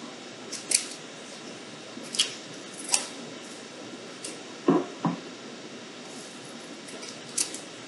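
Scissors cut felt around a pinned paper pattern, a handful of crisp, separate snips spaced irregularly over a quiet background.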